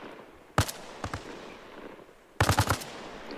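Bursts of automatic gunfire in a military shooter game, a short volley, a brief second burst, then a louder rapid string of shots near the end, with quiet gaps between.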